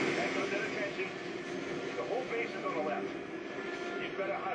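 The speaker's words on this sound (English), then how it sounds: "as you can see, there's a helicopter" A helicopter in the shooter game Modern Warfare 2 keeps up a steady, droning rotor and engine roar, with a voice talking over it.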